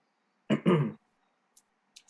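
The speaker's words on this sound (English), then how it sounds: "Excuse me, I have to cough." A single short throat-clearing cough from a lecturer, close and fairly loud in a quiet room, followed by a couple of faint small noises.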